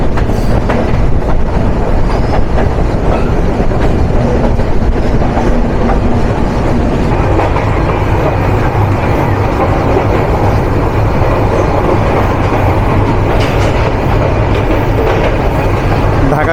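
The SilkCity Express, a Bangladeshi intercity train, runs through Dhaka Cantonment station, heard from on board as a loud, continuous rumble with rail clatter and a faint squeal throughout.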